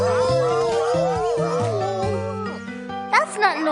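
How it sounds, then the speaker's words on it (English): Cartoon dogs howl and sing together in a wavering, melodic chorus that holds steady before breaking into a few short louder yelps near the end, close and prominent. "That's not noise, that's dogs singing."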